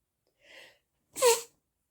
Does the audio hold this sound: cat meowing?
no